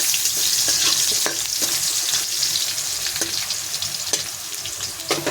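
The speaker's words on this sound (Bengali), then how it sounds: "এবার আমি আলুটা নাড়াচাড়া করবো" Potatoes with turmeric and salt stirred in a hot pan, loud steady frying sizzle punctuated by repeated sharp scrapes and clicks of the spoon, close and without talk.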